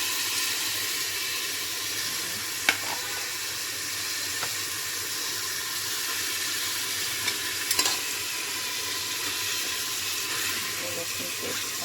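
Ginger garlic paste for a mutton dish fries in a pan with a steady sizzle and occasional stirring scrapes, and a person talks over it.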